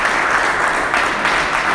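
An audience at a public forum on cannabis applauds steadily, a dense, loud wash of many hands clapping throughout with no break.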